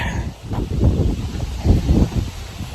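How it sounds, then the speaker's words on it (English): A strong gust of wind sweeps through storm-damaged trees outdoors, heard as a loud, rumbling, buffeting roar that swells and falls across the microphone. "Comes a good gust of wind."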